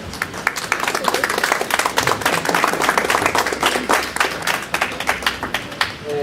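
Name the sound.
audience applause welcoming a speaker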